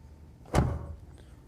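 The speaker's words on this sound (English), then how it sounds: "Listen how that door slams." A single solid door slam on a Revology 1968 Shelby GT500KR, a short heavy thud with a brief ringing tail in a quiet space.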